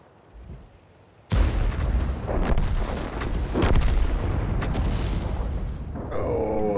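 An M4A1 tank fires its cannon in a tank video game: one sudden loud boom with a long rumbling tail and further distant blasts, with a brief burst of synthetic game sound at the end.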